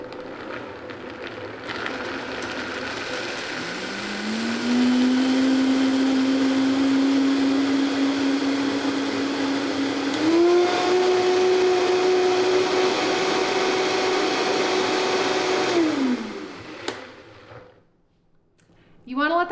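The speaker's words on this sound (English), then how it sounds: "turn it on to high until it processes the cashew cream into a really creamy mixture" A food processor blends soaked cashews into cashew cream on high speed, a steady loud motor whine that rises in pitch partway through and then cuts off, followed by brief clatter.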